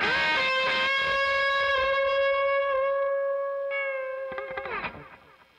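A sustained, distorted guitar note rings out with heavy effects, then fades and washes away into a long, spacious reverb tail.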